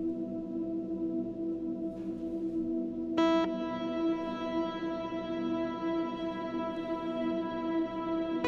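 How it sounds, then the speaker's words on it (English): A sustained guitar tone through a Void reverb pedal rings out drenched in lush reverb, with a bright chord entering partway and washing into a long, shimmering tail. "So it just darkens that reverb up."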